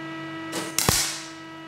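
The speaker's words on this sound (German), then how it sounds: "Er setzt so viele Schweißpunkte, bis sich irgendwann eine durchgehende Linie ergibt." Spot welding on rusty car body sheet metal: a short, sharp crackling burst against a steady electrical hum, a brief hiss followed by a louder snap, close and alone.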